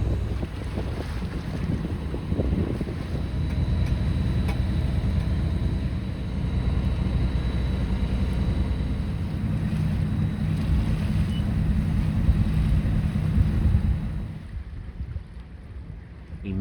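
A sailboat motor-sailing through wind gives a steady low engine drone mixed with rushing wind buffeting the microphone and water noise, continuous and fairly loud until it drops off near the end.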